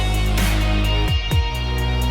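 Loud, distorted guitars from a Bitwig Studio rock project play with dense sustained chords and a couple of low slides, with no one talking.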